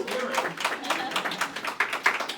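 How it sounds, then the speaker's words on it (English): A small event audience claps in scattered, uneven bursts, individual hand claps distinct and fairly close, with voices mixed in among them. "Yeah, let's give them applause."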